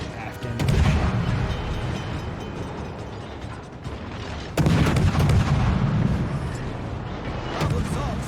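Warship guns fire high-explosive shells in a naval combat game, heard as two heavy booming blasts with rumbling, mechanical tails, the second louder, over a steady low churn.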